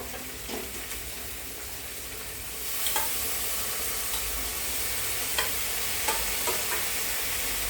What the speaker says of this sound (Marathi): थोडंसं ह्यातलं पाणी जाण्यासाठी आपण पुन्हा परतत राहणार आहे